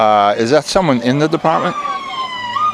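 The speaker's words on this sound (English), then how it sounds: "Sorry about the siren, by the way." A police siren wails and sweeps up and down close by, loud and wavering, while a person asks a short question partway through.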